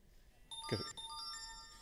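A mobile phone ringtone goes off in the audience at a hacking conference talk, a fairly faint melodic run of bright electronic tones that starts partway through and keeps sounding, with a brief murmur from the room.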